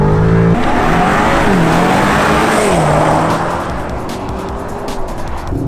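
A BMW M5 G90 drives hard on a race track, engine note rising and dipping through gear changes with a tire squeal, loud and close, then easing slightly toward the end.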